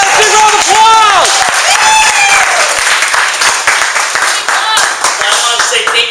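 An audience at a weekly networking meetup in San Jose claps in a dense, sustained round of applause, with a few cheers and whoops rising over it.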